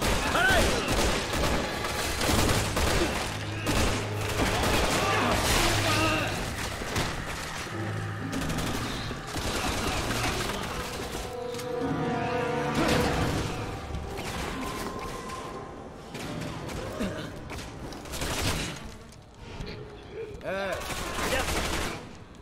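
Loud, dense gunfire from Resident Evil 6, with rapid bursts and volleys of shots overlapping almost without pause across the whole stretch, while voices come through now and then.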